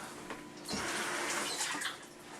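Tap water runs while something used for homemade sushi prep is rinsed, a soft steady splashing and hiss, fairly quiet and close, with slight swells as the item moves under the stream.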